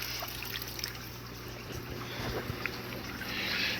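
Continuous water trickling and splashing from a waterfall feature in a home fish room aquarium, steady and close with a low hum underneath, no talk.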